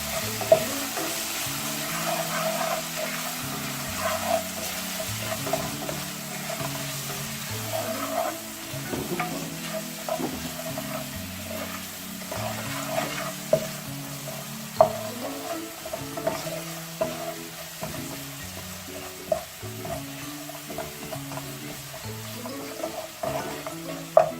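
Ginger and garlic paste with salt fries in a pan for a chicken and pepper curry, a steady close sizzle with bubbling and spattering pops and occasional spoon knocks, with no talking.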